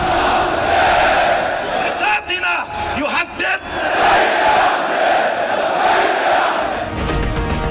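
A large crowd at a Hezbollah rally in Lebanon roars and chants in loud, massed waves, with brief dips and a few separate shouts breaking through midway before the chanting swells again.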